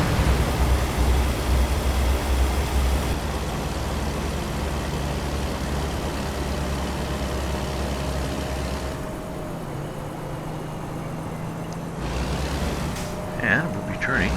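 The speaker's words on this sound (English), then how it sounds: "I hear a bus. Jeez, they're loud bastards." A bus rumbles past in American Truck Simulator during a bobtail drive in Northern Ontario, a loud, steady engine and road roar that shifts and fades toward the end as someone talks briefly.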